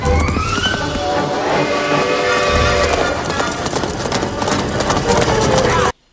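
Horse hooves gallop in a rapid, busy clatter during an action scene from Indiana Jones and the Last Crusade, mixed under loud orchestral score and a voice talking over it.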